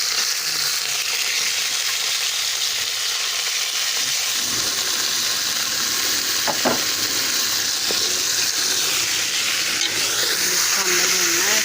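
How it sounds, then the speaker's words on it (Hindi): Beef frying in a pan for korma gives a loud, steady sizzle with hiss, broken by a few stirring scrapes and clinks of a utensil. "इसी तरह इसमें हम गोश्त डालेंगे ताकि ये भी साथ भून जाए अच्छे तरीके से"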